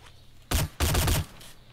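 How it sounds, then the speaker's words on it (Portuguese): Gunfire from a silenced weapon in the video game DayZ: two loud, close bursts of rapid shots, the second longer, with quiet game ambience before and after. "É tu que tá dando tiro com arma silenciada."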